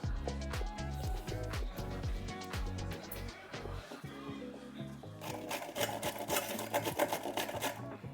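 Chana dal is being ground into a paste in a kitchen, giving a busy, rattling mechanical whir with rapid clattering that grows denser and harsher toward the end, with faint voice sounds in the background.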